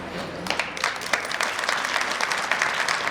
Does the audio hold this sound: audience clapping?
yes